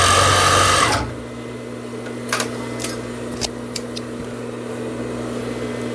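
A sewing machine stitches the pocket of fitness shorts in a short, loud mechanical burst. Then it drops to a low steady motor hum broken by a few faint clicks.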